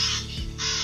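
Crow calls broadcast by a bird-deterrent sound device at a water-treatment reservoir, a harsh cawing pair heard loud and close with a brief lull between the calls.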